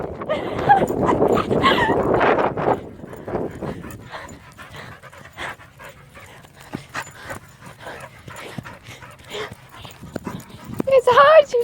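A dog on a walk whimpers and yips in short, irregular bursts while panting, close by, with a person talking over parts of it.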